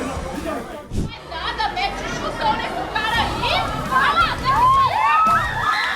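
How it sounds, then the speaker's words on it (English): A whole restaurant crowd cheering after a suspected drug dealer is taken down in Bayswater, with loud overlapping chatter, shouts and excited whoops from many people close by, swelling toward the end. "Look at the whole restaurant cheering."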